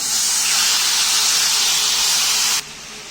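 Egyptian shawarma meat hits a hot, oiled pan with a loud, close, steady sizzle that cuts off abruptly near the end and leaves only a faint hiss.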